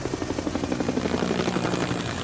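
A military medevac helicopter holds a high hover over jungle, its rotor thumping in a fast, steady rhythm with a loud, close engine whine throughout.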